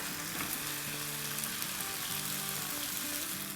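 Food sizzling steadily in a frying pan while being gently stirred, a continuous close hiss with soft scraping and faint background tones, no talking.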